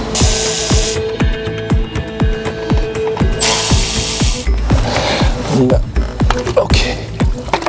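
Repeated metallic ratcheting clicks and clanks from hand tools removing the intercooler of a BMW M4 losing coolant, with short hisses of spray and rattling parts, close by during mechanical work.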